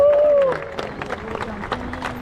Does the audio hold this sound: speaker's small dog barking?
no